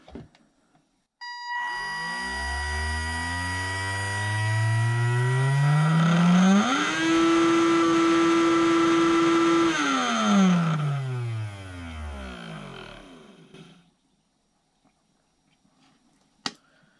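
A Tamiya Sport Tuned RC electric motor runs with no load on a 2S LiPo battery. It spins up with a rising whine, holds a loud steady high-pitched hum for a few seconds, then winds down and falls quiet.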